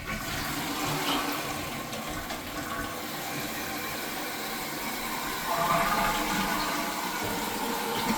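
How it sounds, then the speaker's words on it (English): A toilet with a faulty fill valve flushes, a loud steady rush of water that swells near the end, recorded close in a home bathroom with no talking. "let me start by showing you the issue that the toilet started having. I'm going to flush it."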